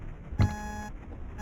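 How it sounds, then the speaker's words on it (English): An electronic alarm beeping in the Mesmalie video game, a steady tonal buzz with a brief louder burst near the start, heard alone and fairly close. "Oh, the alarm's still here."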